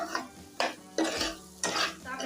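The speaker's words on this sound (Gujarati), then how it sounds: "હવે આપણે એકદમ ફાસ્ટ ગેસ કરી અને આ રીતના એને બધી તેલમાં શેકી લેવાની પહેલા" Spiced ingredients, including bottle gourd, being roasted in oil in a pan over a high gas flame, with four scraping stir strokes of a spoon against the pan over a low hiss.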